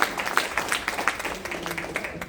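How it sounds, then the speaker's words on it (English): An audience at an evening motivational speaking event claps steadily through the whole stretch, moderately loud, with a room full of hands producing a dense patter. "let's give them a round of applause"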